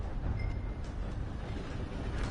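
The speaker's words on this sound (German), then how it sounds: "The train." A steam train rolls past in the video game Red Dead Redemption 2, a steady low rumbling and clattering of carriages at moderate distance, continuous throughout.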